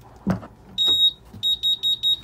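A soft click, then a longer electronic beep followed by three short, evenly spaced high-pitched beeps, clear and close: a 2019 Suzuki DF150 APX outboard's ignition warning, sounding because a switch is not set to on.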